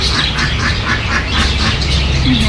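A duck calls repeatedly outside a Subrahmanya Swamy temple, its rough quacks pulsing in a steady rhythm close by over constant loud background noise.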